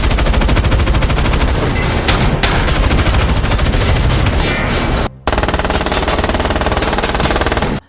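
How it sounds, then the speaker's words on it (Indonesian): Movie shootout gunfire roars in dense, continuous automatic bursts, loud and close, with a brief sudden cut before the barrage resumes. "Edge kembali baku tembak dengan mereka"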